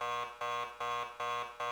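Repeating electronic alarm beeps in the Noir video game, a harsh buzzing tone pulsing about every 0.4 seconds, loud and up close with no talking.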